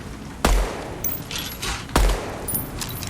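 Two separate hip-fired gunshots at a firing range in the video game Deadrop, each a loud sharp crack with a short echoing tail, about one and a half seconds apart.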